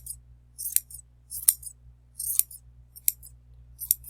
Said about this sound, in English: I just kind of shake it a little bit and look for the longer pieces, and then just kind of trim those a little bit.